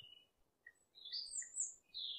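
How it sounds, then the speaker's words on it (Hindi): Several short, high-pitched bird calls from a cuckoo (koel) ring out in quick succession, clear and fairly close against a near-silent background. "कुकू को हिंदी में कोयल कहते हैं"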